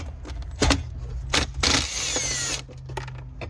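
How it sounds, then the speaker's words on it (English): A power tool whirs in short bursts and one longer run while 10mm screws are removed from an interior panel on a fourth-generation Toyota 4Runner, close up, with a low engine-like hum beneath. "remove two more 10mm screws. One on each side."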